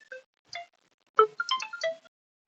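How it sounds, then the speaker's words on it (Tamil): A mobile phone rings with a melodic ringtone of short tonal notes, first two sparse tones and then a quicker cluster of chiming notes, clear against silence. "யாரோ ஃபோன் பண்ணிட்டாங்க"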